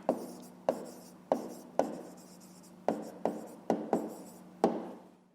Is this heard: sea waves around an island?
no